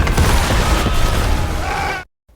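Loud explosion in the animated Avatar series, a sustained roaring blast with crackling debris that cuts off abruptly into silence.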